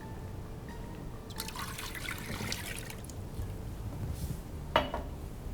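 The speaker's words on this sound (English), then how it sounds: "We're going to add 2 cups of water." Water poured into a saucepan on a hot stovetop burner while making rum raisin sauce, a quiet trickling splash for about a second and a half, then low kitchen background and a single sharp clink.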